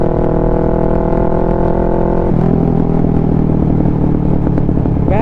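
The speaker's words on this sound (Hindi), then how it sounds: "This bike got some heavy crackles." Kawasaki Ninja 650 with a Mivv full-system exhaust, loud and close, holding a steady droning engine note that shifts in pitch partway through, with crackles near the end.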